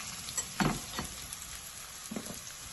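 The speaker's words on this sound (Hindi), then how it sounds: "So the chili, the dried chilies go in now." Dried chilies fry in hot oil with browning cumin seeds and garlic for an outdoor lentil tadka, a constant crackling sizzle broken by a few louder stirring scrapes and spits.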